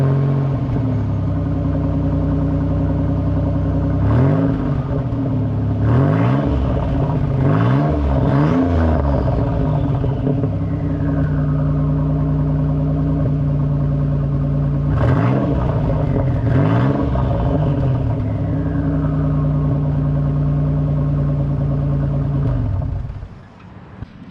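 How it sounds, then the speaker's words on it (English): A Nissan Z with a VG engine and a leaky stock exhaust holed through idles with a steady drone, revved several times in rising and falling sweeps, close and loud, then cut off at the end. "The exhaust on this, it is a stock exhaust. It's a little bit leaky, has a big hole in it"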